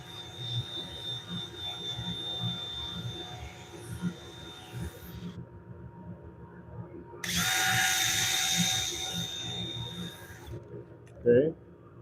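A power sander works a walnut and cypress bowl on a lathe, a steady whine that drops away midway, returns in a brighter, louder burst, then stops with a brief knock at the end.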